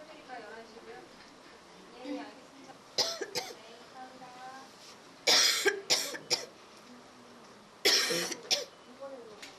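A woman with a persistent cough that has lasted for months coughs in several harsh bursts and clears her throat, with quiet talking in between.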